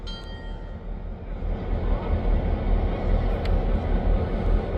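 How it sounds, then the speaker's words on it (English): Freight train with three locomotives hauling pulpwood, a heavy low rumble building after the first second and holding steady, with a faint metallic squeal and click partway through, no talk over it. "We've got 3 locomotives on this train."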